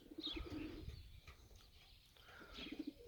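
Pigeons coo softly in a quiet enclosure, a few low rolling coos near the start and again near the end, with faint chirps and shuffling between.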